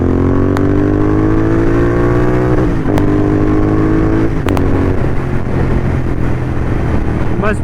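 A motorcycle accelerates on a city road, its engine note rising steadily through repeated gear changes, loud and close with the drone of continuous road noise underneath.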